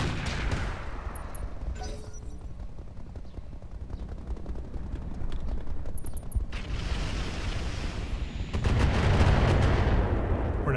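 Heavy weapons fire from mechs in the RogueTech BattleTech game, a dense run of booming blasts and mechanical clatter that swells louder toward the end, with no voices over it.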